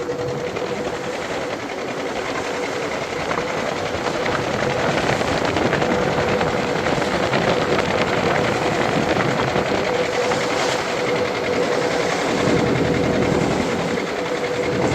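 A trawler's engine room on a Sundarbans river trip carries a loud, steady mechanical drone with a fast, even chugging pulse that runs unbroken throughout.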